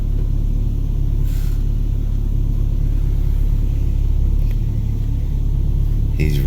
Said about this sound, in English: When we take the Telluride into the car wash with the brushes.